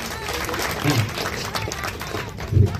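Audience applause at a felicitation ceremony honoring actor-choreographer Mahesh Sonawane and actress Poonam Kapse: a steady wash of many hands clapping for about three seconds, swelling slightly toward the end with a few low thumps.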